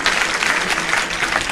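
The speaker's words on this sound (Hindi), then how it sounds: "एक बार जोरदार तालियां जिनवाणी चैनल के लिए।" Loud, dense applause from a large audience at a Jain religious discourse program, a steady wash of many hands clapping together with no break for its whole length.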